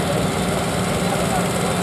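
A steady, rumbling two-cylinder 880 cc tractor engine runs continuously at close range during a 20 hp class tractor pull, a dense low chugging drone with no pauses.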